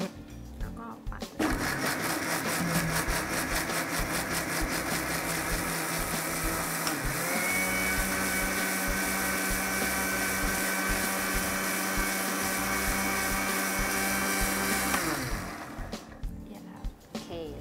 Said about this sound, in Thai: ก็ปั่นให้ละเอียดนะคะ